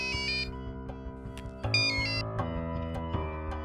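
A mobile phone rings with a melodic, multi-tone ringtone that repeats steadily for a few seconds, fairly loud and close, with no talking over it.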